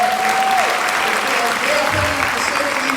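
Sustained applause from an evening audience at the 18th Alpha Beautillion in 2019, a thick, even roar of clapping held for several seconds with a faint tonal note running underneath.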